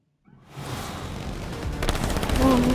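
Rapid automatic gunfire crackles through a firefight in the video game Split Fiction, a dense run of bursts that grows slightly louder toward the end.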